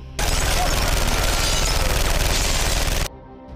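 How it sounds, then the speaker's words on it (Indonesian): Automatic gunfire from a passing car in a film scene, one loud continuous three-second burst of rapid shots that stops abruptly. "datang sebuah mobil menembakkan senjata otomatis ke arah mereka"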